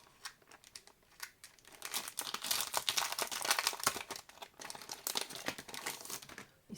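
Plastic wrapping on small 15x15 cm paper pads crinkles and tears as it is opened, a busy close-up rustle that builds after a quiet start and keeps crackling steadily to the end.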